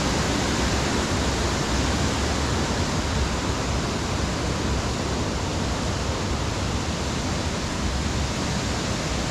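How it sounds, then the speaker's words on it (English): Harmby waterfall roars as one loud, unbroken rush of water, a broad steady hiss with no pauses or other sounds, heard close by from the top where the water drops down. "I can see the top of the waterfall from here where it drops down"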